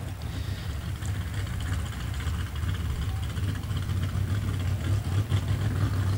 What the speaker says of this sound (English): the way that he will feather the throttle.